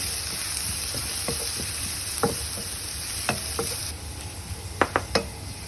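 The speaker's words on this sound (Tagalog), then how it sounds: "i-fry pa natin hanggang mag-golden brown ng todo" Garlic fries in oil until golden brown, a steady soft sizzle with scattered clicks and taps of a stirring utensil against the pan, fairly faint and without talk.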